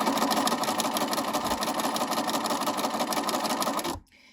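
A sewing machine stitches down the center of twill tape for a pendant lamp, a rapid, steady mechanical whir with even needle ticks, close and continuous before stopping abruptly near the end.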